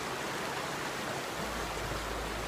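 A stream flows under a bridge in a mountain national park as a loud steady rush of water, with deeper low rumble coming in partway through.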